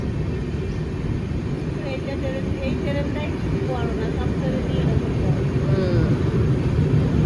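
A steady low rumble of a moving train, with a few faint voices and tones drifting above it.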